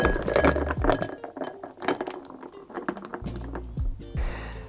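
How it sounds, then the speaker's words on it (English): A cocktail is free-poured into a 16-ounce tulip glass, the liquid splashing and gurgling with glassy clinks up close, pouring in a couple of bursts with short pauses. "This is just a 16-ounce Tulip glass, which is 480 mils, and I'm just going to free pour it in."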